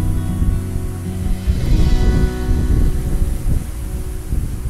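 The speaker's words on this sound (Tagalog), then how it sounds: "Ang hangin dito, hindi ko alam kung man naririnig nyo. Sobrang hangin." Strong wind at a riverside campsite buffets the microphone with a low, gusting roar that swells and eases throughout.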